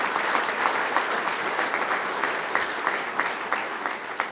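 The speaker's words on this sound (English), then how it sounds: "Let's give all of our sponsors a big round of applause." A round of applause for sponsors at a Little Rock Touchdown Club luncheon held at Embassy Suites, a moderate roomful of clapping with individual sharp claps standing out near the end.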